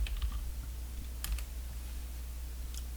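Computer keyboard keys clack softly in a few quick clusters while a material is named in Cinema 4D, with a steady low hum underneath and no talking.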